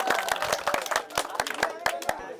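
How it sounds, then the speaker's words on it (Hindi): A studio audience claps for a contestant at a gaming challenge show, a burst of many hands with sharp, uneven slaps that carry steadily over a couple of seconds under a loud, lively room. "चलिए जोरदार ताली मारिए इनको लिए।"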